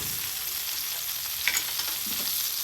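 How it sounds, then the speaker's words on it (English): Butter and a splash of avocado oil sizzle on a hot flat-top griddle, a loud, close, steady hiss with faint scraping under it throughout. "As soon as this butter goes on, I'm going to turn the flat top off."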